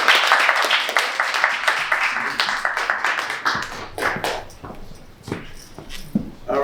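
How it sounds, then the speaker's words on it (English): An audience claps steadily, a dense patter of many hands that thins into scattered claps toward the end. "let's all clap it up for Jerome"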